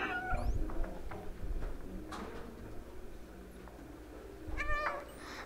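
Cat meows from a small stray cat in the game Stray, a couple of short bright calls near the start and another clear meow near the end over soft ambient game background.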